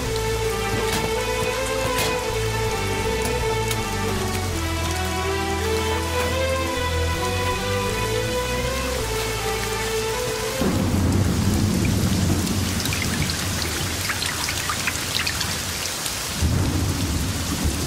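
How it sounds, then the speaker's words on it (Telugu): Heavy rain pours down in a thunderstorm over a village beside a swollen river, starting under a music bed, then a dense roar of rain with rumbling thunder close by. "అంత వాన వస్తుంది."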